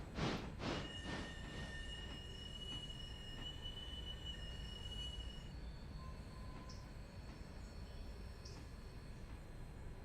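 A train running in the railroad game Railroader, with rolling wheels and rumble, sustained high-pitched wheel squeals and a few clanks near the start, steady and without speech.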